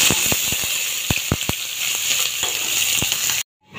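Onion and chilli sizzle in hot mustard oil in a kadai, a steady bright hiss with scattered crackles and pops, loud and close, before the sound cuts off abruptly at the end.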